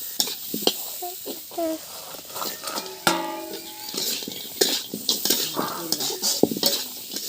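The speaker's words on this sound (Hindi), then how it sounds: "सभी मसाला डाल करके और अच्छे से हम इसे फिर से भुनेंगे" Masala spices sizzle as they roast with water in a pan while a utensil stirs and clinks against the metal, with scattered scraping and tapping throughout.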